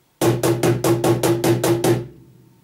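Eight sharp cajon slaps in a steady, even rhythm, each crisp and bright with a woody thump underneath, played alone up close before fading out.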